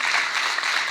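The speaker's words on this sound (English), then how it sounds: "can we just give them both a huge round of applause?" Audience at a community panel event on race and law enforcement gives a sustained wash of applause, dense and steady throughout this brief moment.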